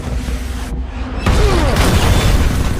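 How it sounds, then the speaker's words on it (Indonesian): An RPG round strikes a vehicle with a sudden heavy boom, followed by a loud, sustained roar of blast and debris. "sebuah tembakan RPG mengena dengan telak dan membuat kendaraan mereka terseok ke tumpukan bebatuan terjal"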